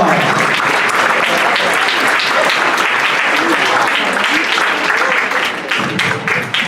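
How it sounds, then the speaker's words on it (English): Audience applause fills a school assembly for Cesar Chavez, a loud, dense, sustained wash of clapping from a large crowd that holds steady and tapers slightly at the end. "Please give Leslie a big round of applause."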